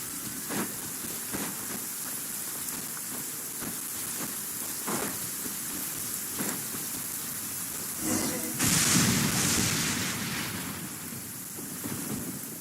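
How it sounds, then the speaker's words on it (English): Rain falls with thunder in the Genshin Impact video game, in the town of Poisson: a steady hiss of rainfall with a few soft knocks and a louder rumbling swell near the end. "I'm used to the rain, but you should probably use an umbrella."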